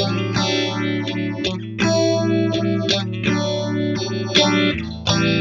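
A Flower Pedals Castilleja phaser pedal sweeps a sustained, chorded guitar tone, its swirling notch patterns drifting between two tempos. Chords are restruck every half second or so, loud and close, with no talking.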